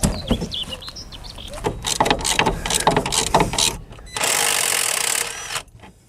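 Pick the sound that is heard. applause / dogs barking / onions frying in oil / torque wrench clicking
torque wrench clicking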